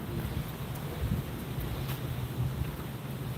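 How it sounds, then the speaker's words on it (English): Gusty wind buffets the microphone beside the Mississippi River, a steady low rumble with brief stronger gusts and no voices. "It is windy out there."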